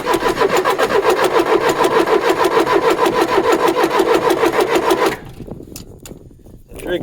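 The diesel engine of a 450 dozer cranks over in a loud, fast, rhythmic churn for about five seconds, then the starter cuts out and leaves quieter rattling and shuffling noises up close.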